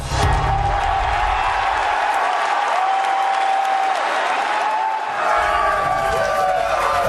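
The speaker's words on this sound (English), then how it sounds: "And the crowd goes wild." A large expo crowd roars with sustained applause and cheering at the first look at a Zelda game, Twilight Princess, during E3. The sound is dense, loud and continuous, with whoops over steady clapping throughout.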